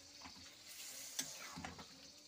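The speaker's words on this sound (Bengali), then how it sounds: "তো আমি এবারে আবার একবার নাড়াচাড়া করে, ঢাকা দেব না" Chicken kosha being stirred in an open, uncovered pan, with a steady low sizzle of frying and a few soft scrapes and clinks of the spoon against the pan.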